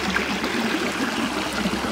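Stream water in the Riera de Canet, Girona, rushing and trickling steadily during gold panning, a continuous close babble and gurgle with no voices.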